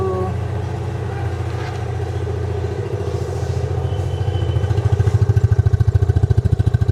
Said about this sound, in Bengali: সাউন্ডটা হলো যে 250 সিসি, যেহেতু সেক্ষেত্রে এইটার হলো একটা মানে একটু ভারী একটা সাউন্ড